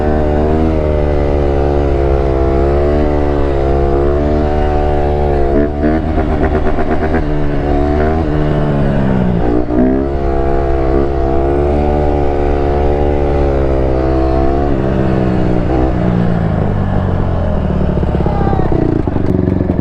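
A 2021 150cc dirt bike ridden at a stunt lot, its engine loud and close, revving up and down in rising and falling pitch sweeps throughout.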